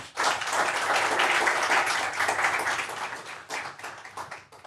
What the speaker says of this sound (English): I think that deserves a great round of applause